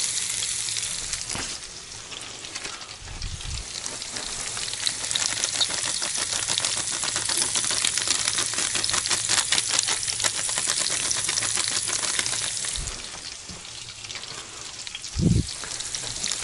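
Steady, loud sizzling of food frying in a pan, with onion stirred in midway, the crackle running continuously throughout with a couple of brief clunks from stirring and no talk.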